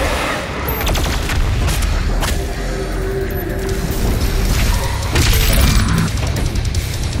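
The BFG 10,000 superweapon firing in the video game DOOM Eternal: heavy booming blasts and rumbling low-end roar, loud and continuous, with sharp cracking bursts and mechanical rattle layered through it.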